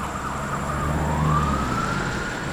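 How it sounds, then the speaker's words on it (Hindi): Ambulance siren in an animated Hindi story, a single rising wail sounding fairly close and steady over a low rumble, with no talking. "तब जाकर एम्बुलेंस आई।"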